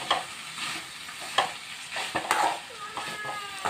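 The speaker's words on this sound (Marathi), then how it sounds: "बघा छान एकजीव करून घ्यायचं." Dried shrimp bhaji is stirred in a frying pan, a spoon scraping and clacking through the mixture under a steady soft sizzle, close up with no talking.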